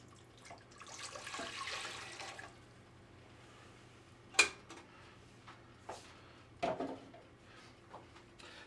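Water poured from a cup into a rice cooker pot: a short, faint stream of splashing, followed by quiet clinks and taps of the pot and cup in a still kitchen.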